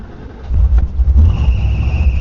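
A 1956 Ford Thunderbird with a 312 V8 Y-block and automatic transmission starts up close by. After a brief quiet moment the engine catches with a loud, deep rumble and settles into a steady low idle.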